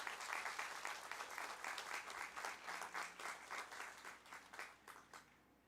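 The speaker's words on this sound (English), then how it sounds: "Give your teachers a huge round of applause." A graduation ceremony crowd applauds the teachers with dense clapping that stays strong, then takes on a loose rhythmic pulse before tapering off.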